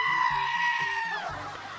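Goat bleating in the video game Legacy of Discord, a loud, wavering nasal cry lasting under two seconds over a low game music backdrop.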